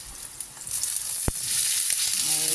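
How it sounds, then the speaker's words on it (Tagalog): Vegetables sauté in a hot pan alongside chicken liver for adobong atay, giving a steady close sizzle with a single sharp click partway through. "habang nagpapainit tayo dito sa ating atay, dito ay nagigisa tayo sa gulay"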